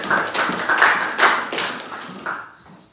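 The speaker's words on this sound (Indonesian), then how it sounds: "Tepuk tangan dulu." Brief round of classroom applause from a seventh-grade class, scattered hand claps that build and fade over a few seconds, moderately close, with no talking over it.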